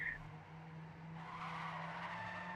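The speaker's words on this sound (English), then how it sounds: "Gara going for the drift here" A car drifts in a racing video game during a league match, its tires skidding in a sustained, fairly faint screech over a steady engine drone.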